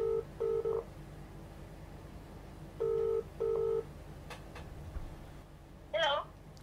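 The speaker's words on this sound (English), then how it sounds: "Calling Mum Mobile." Outgoing phone call placed through a Sony Smartband, with paired ringback tone bursts and a short rising electronic chirp, moderately loud over low room noise.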